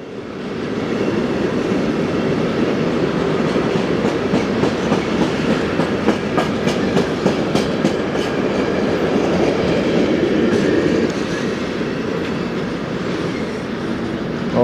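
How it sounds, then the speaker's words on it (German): A passing train at Spiez station, its wheels with flat spots producing a steady clickety-clack of rhythmic rail thumps and rumble, close and continuous throughout with no talking. "Ein paar Flachstellen hat der Zug auch mit dabei."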